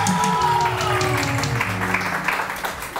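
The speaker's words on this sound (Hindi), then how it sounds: "तो जोरदार तालियां" Studio audience applause on a morning television show, a short burst of clapping under a held music tone and fading out over a few seconds.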